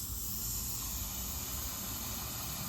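Rockwell chain lube sprays from an aerosol can in one continuous, close hiss lasting a few seconds, with no one talking.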